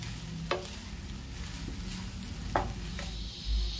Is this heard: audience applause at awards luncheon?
no